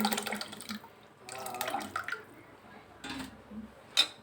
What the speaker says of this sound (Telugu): ఎప్పుడు పప్పులో వేసుకుందాం ఫ్రెండ్స్ చింతపండు వాటర్